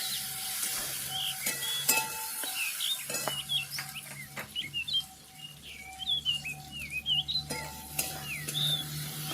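Ingredients for paneer butter masala fry in a pan with a steady sizzle and occasional spatula stirring, while birds chirp faintly in the background.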